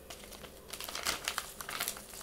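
A thin plastic packet that held nori seaweed sheets crinkles and rustles in short bursts, close up and fairly quiet, with no talking.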